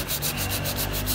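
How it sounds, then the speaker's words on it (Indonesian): Coarse grade 60 sandpaper rubs across a cracked car body panel in fast, even back-and-forth strokes, a steady loud close-up scratching with no voices. "Lanjut kita amplas, ini pakai grade 60"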